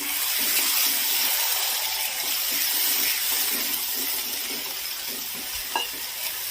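Milk water hits a pan of frying prawn masala, giving a loud, continuous sizzle with scraping stirring throughout and a brief clink near the end.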